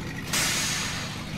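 A sharp burst of air-brake hiss from a truck in Farming Simulator 17 cuts in early and sustains loudly to the end, with a diesel engine droning underneath.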